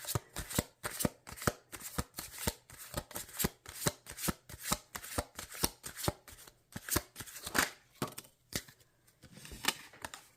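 A deck of tarot cards being shuffled by hand, giving a steady run of crisp, close card slaps and riffles that carry on for the whole stretch with no talking.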